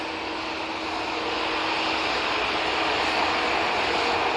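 easyJet Airbus A321neo jet at an airport, taxiing onto the active runway; a steady, moderately distant engine whine and broad roar holds evenly throughout, with no talking.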